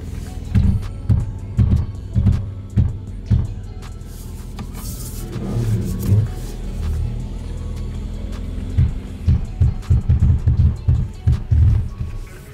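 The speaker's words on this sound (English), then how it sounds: "So here's a video of me driving my car with run flat tires." A Mercedes driving on run-flat tires, with a series of rhythmic low thumps and bumps from the tires over the road under a steady engine rumble, close and loud.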